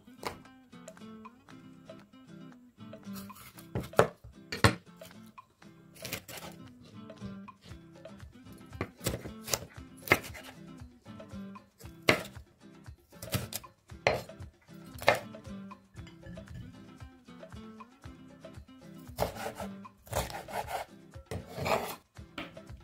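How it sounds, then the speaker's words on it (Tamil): A knife chops capsicum and onion on a cutting board in a kitchen, giving a long irregular series of sharp, fairly close knocks and scraping strokes with short pauses between bursts. "நம்ம கேப்சிகமும் ஆனியன் வெட்டினா அதே அளவுக்கு வெட்டிக்கலாம்."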